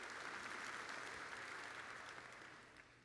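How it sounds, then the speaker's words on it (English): A church congregation claps together for a few seconds, a thick, even wash of applause that tapers off toward the end. "Clap for Jesus."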